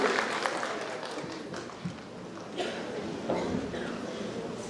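Audience at a school annual concert applauding after a song by kindergarten children, a scattered, moderately loud clapping that thins out briefly in the middle and then swells again.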